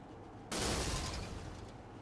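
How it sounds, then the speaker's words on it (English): A NASCAR Next Gen race car's engine blows up in the iRacing sim at Talladega Superspeedway: a sudden loud blast breaks a quiet background and decays into a fading roar. "I think Hunter Waters may have grenaded the engine"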